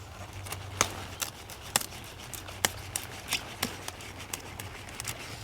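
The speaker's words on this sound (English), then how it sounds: "cut it off of the plant just below the end of where the head is" A blade snips through the thick stem of a broccoli plant just below the head, giving a series of sharp, close crunching cuts with short pauses between them.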